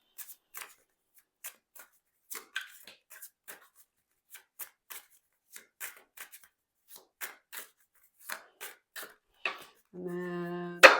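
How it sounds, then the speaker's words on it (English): Tarot cards are shuffled in a quiet room with a series of short, crisp riffling and tapping bursts, irregularly spaced, followed by a brief voice at the end. "Just going to do a quick shuffle."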